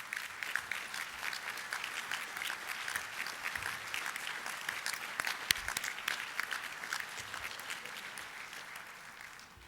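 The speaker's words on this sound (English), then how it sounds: "let us give you a round of applause for your achievement" A room full of people applauds at a softball Hall of Fame induction ceremony, with sustained, fairly soft clapping from many hands in a continuous patter that holds steady before tapering slightly at the end.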